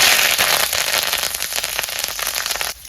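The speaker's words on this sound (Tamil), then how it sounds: "எண்ணெய் காஞ்சிட்டு கொஞ்சமாக சீரகம், பொரிய விட்டு கருவேப்பிலை," Cumin seeds and curry leaves splutter in hot oil in a pan for potato and egg fried rice, a dense, loud, close crackling and popping that runs steadily before cutting off near the end.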